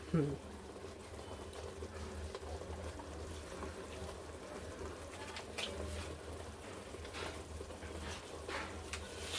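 Mutton curry simmers in a pot, giving off a soft, steady bubbling and gurgle that stays quiet and even throughout.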